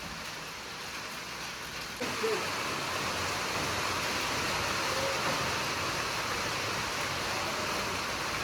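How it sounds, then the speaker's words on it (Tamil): Water is poured into instant gulab jamun mix, village-style cooking outdoors: a steady soft splashing and hissing pour starts about two seconds in and runs continuously to the end, with no talk over it. "குலோப் ஜாம் மாவில் தண்ணீரை ஊற்றிக்கலாம்."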